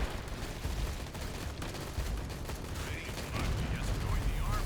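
Acid mortar fire in the undead real-time strategy game Age of Undead: a faint, busy clatter of mechanical shots and distant gunfire-like bursts running continuously beneath a low rumble.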